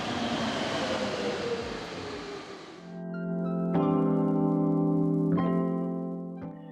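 A Turin metro train runs along with a broad rumbling roar that fades out, then steady tonal humming and whining of the motors rises, with brief clicks and clunks from the track, close and fairly loud inside the carriage.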